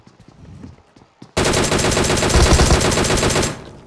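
Rapid automatic gunfire in a video game erupts suddenly after a few faint soft sounds and rattles on continuously for about two seconds before stopping abruptly.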